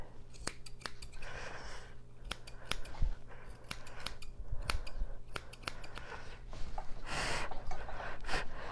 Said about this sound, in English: Back with my round shears.